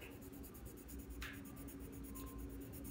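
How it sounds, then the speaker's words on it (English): Soft, steady scratching of a colored pencil as a three-year-old child colors a picture of a cup in class, continuous and faint against a quiet room background. "You take the color pencil. Then you color this cup."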